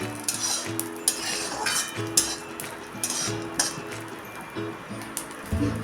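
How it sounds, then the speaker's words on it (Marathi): Garlic sizzles quietly in a pan while a spatula scrapes and clinks against the metal in a steady, repeated stirring rhythm. "हा लसूण पण आपण थोडा वेळ परतून घेऊया"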